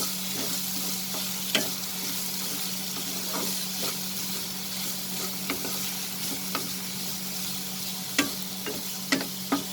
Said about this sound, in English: We'll saute the vegetables over high flame for 2 minutes.